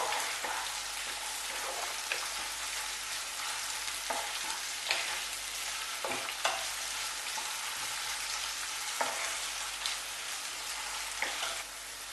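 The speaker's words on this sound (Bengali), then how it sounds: "এরপর আমি এর মধ্যে ক্যাপসিকাম অ্যাড করব। কয়েক সেকেন্ড একটু ভেজে নেব।" Vegetables with capsicum sizzle in a pan for a vegetable dum pulao, a steady close frying hiss with occasional clinks and stirring scrapes, no talking.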